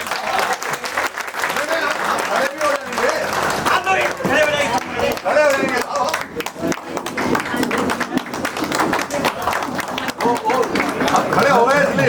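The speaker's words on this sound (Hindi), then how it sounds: "एक बार जोरदार तालियां बजा दी" Loud, sustained clapping from a large audience at a Hindi poetry recitation fills the space, dense and continuous across the whole stretch, with some voices and crowd murmur mixed in beneath the applause.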